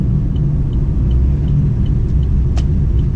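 Cammed Chevrolet Camaro SS with a manual clutch rolls and turns right on a road, a steady loud low engine rumble running throughout with a faint brief hiss near the end.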